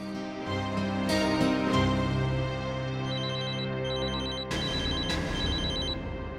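A landline telephone rings loudly with a repeating electronic ringtone pattern, continuing steadily without any talking.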